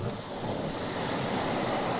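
Strong wind roars steadily around a ship at sea as water splashes violently against its hull, a dense, continuous wash of noise with no pauses.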